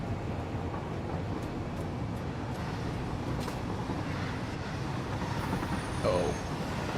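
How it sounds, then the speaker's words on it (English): A train rolls steadily in the factory-building video game Satisfactory, a continuous rumbling ride with faint rail clatter and a brief squeal near the end, heard alone. "We'll just take a lovely little train ride."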